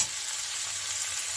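Onions sizzle steadily in a hot pan while frying for a chicken bhuna masala, a close, continuous hiss with no talking.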